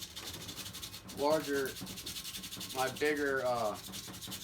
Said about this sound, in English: I do have this 3M metal and steel sandpaper, so I can at least get down here and get everything I need to get